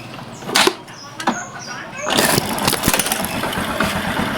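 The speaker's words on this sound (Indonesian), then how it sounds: "Jadi kita starter, kuat nggak?" Electric starter cranking the engine of a Honda Karisma X motorcycle with a weak battery, a rough mechanical whir that starts around two seconds in and runs loud and steady to the end, after a few brief clicks.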